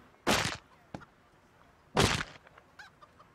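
A chicken in the video game Turbo Dismount gives two loud, harsh squawking bursts about two seconds apart, with softer clucks and clatter between them.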